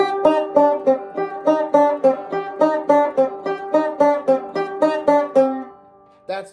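Electric guitar plays the opening riff of the Daredevil theme, a repeated picked figure of evenly spaced notes, clear and close, ending on a sustained note followed by a short final pluck.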